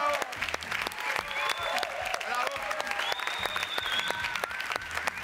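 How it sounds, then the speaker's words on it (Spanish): Clapping from a small crowd mixed with overlapping voices and a few whistle-like tones, moderately loud and continuous. "te aplaudimos a rabiar acá"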